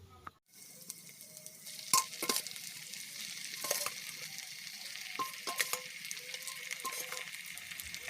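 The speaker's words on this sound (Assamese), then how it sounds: "হাঁহৰ মাংস এইখিনি মই মেৰিনেট কৰি থৈ দিছিলোঁ, এতিয়া তেলত দি দিম।" Marinated duck meat goes into hot oil over an open fire and fries with a faint but steady sizzle, punctuated by occasional sharp metal scrapes and clinks of stirring, with no voices.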